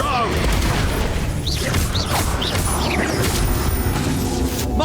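Explosive spell blasts from the Expulso charm in Hogwarts Legacy on Nintendo Switch boom continuously amid dense, loud combat noise with shimmering magical whooshes layered on top.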